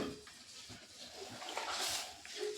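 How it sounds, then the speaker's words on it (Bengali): Water poured into a pan of broccoli on the stove: a faint, continuous splashing hiss that swells near the end, quiet and close, with no talking. "আরও হাফ বাটির মতন জল আমি এখানে দিয়ে দিলাম"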